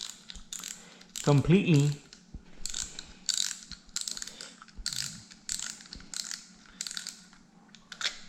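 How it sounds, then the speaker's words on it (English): A fishing reel's spool is removed with sharp ratcheting clicks and mechanical rattles, sounding close and fairly quiet in a series of irregular bursts. A single word is spoken briefly. "we're just gonna remove the spool"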